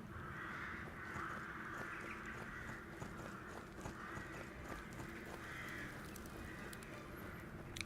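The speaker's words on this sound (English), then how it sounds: "I wonder whether the crows was a good idea. Because bloody hell are they noisy." Crows cawing in the video game Skyrim, repeated harsh caws in a steady irregular chorus, faint overall and heard without talk.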